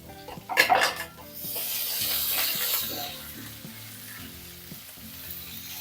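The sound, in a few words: curry leaves, green chilli and ginger sizzling in oil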